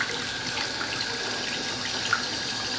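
Hot water runs steadily from a tap after a power flush of a combi boiler in New Moston, a continuous near hiss of flowing water with no break, alone without talk.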